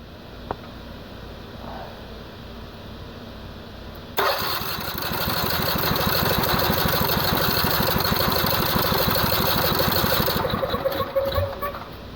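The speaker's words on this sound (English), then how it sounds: "about to run this engine with only one piston in it" Engine with only one piston installed, cranked by a battery starter: quiet handling at first, then a sudden loud rapid rhythmic churning for about six seconds that stops abruptly without firing.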